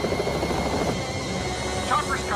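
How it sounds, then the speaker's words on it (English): A helicopter approaches in a scene from the film Loose Cannons, its steady rotor drone filling the background under a man's speech. "Chopper's coming."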